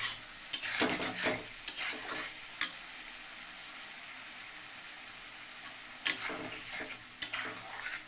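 Spice paste fries in a pan and gets stirred in short scraping bouts, the strokes clustering early and late over a quiet, steady sizzle with a lull in between.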